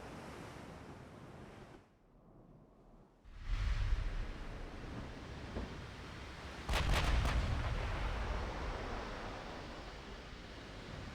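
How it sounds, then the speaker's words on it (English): Gun turret fire from battleships rings out in the naval game Ultimate Admiral Dreadnoughts as a couple of heavy, distant booms over a continuous bed of ocean surf and wind. "Interesting she fired only a single gun turret there."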